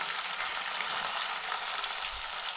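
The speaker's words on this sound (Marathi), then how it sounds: "लसूण हे आधी चांगलं परतून घ्यायचं आहे आपल्याला" Chili, onion and garlic sauté in a hot pan, giving a steady, close, continuous sizzle and frying hiss with no voices.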